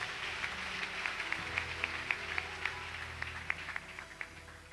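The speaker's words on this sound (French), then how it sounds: "Acclamons le Seigneur." A church congregation applauding during worship, a soft continuous patter of many hands with sharper individual claps standing out, fairly distant and quiet.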